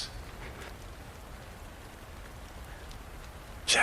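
Steady rain falls softly and evenly in the background, a faint continuous patter with a brief louder rustle at the very end.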